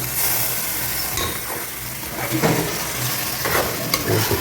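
Mutton pieces frying in oil and stirred in the pan, a loud, close sizzle broken by irregular scraping and clattering of the spoon, no speech.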